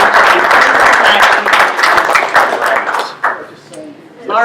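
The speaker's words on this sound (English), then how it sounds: "Could we give our guests another round of applause for being here?" A roomful of guests at a club meeting gets a round of clapping, dense and steady for about three seconds before tapering off, with a voice starting to speak near the end.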